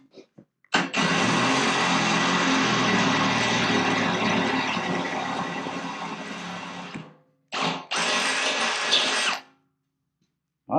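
A Milwaukee power drill runs in a loud continuous whine for about six seconds, stops, then whirs again in a shorter burst, heard up close with no talking.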